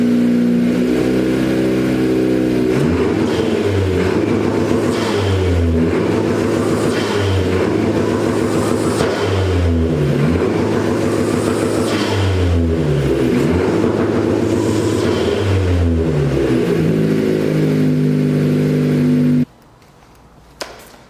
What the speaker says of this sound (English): let's go ahead and give this thing a couple revs, seeing just how good that filter sounds